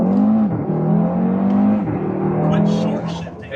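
A Stage 1 E85-tuned Audi RS3 with a five-cylinder engine pulls hard under acceleration, with a loud, steady droning engine note rising throughout while people talk inside the car.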